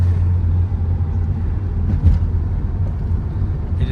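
A 1984 Porsche 911 backdate built as an RSR tribute drives through city streets, its engine a low, steady rumble heard from inside with road and wind noise over a continuous drone.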